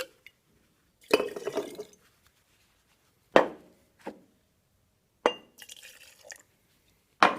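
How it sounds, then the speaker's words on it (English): Liquid poured out of a glass jar in several separate short splashing bursts with silent gaps, close and clear, with glassy clinks. "Maybe if we pour a little bit of this out."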